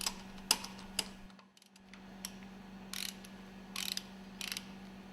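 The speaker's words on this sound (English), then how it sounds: "Mount and tighten the screws for the cooling jacket." Screws for the cooling jacket of a marine engine cylinder cover are tightened with a ratcheting tool, giving sparse sharp clicks and short clicking bursts over a constant low hum in a quiet workshop.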